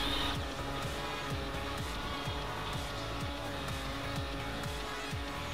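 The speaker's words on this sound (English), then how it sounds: "I feel like the car is a little bit too loud," Racing car engine in the video game Forza Horizon, a continuous loud droning roar with rapid repeated gear-shift rises and drops, alone without talk.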